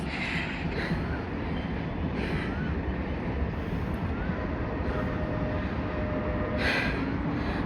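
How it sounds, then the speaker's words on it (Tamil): A train runs alongside a central road in Thiruparankundram, Madurai, giving a continuous, fairly distant rumble and rolling roar that holds steady throughout. "ட்ரெயின் பாருங்கள் போகிறது எப்படி இருக்குன்னு"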